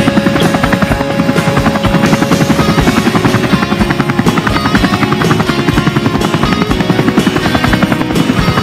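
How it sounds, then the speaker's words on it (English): A helicopter drones steadily with a loud, continuous rotor thump and engine buzz, close and constant throughout. "This is still a helicopter."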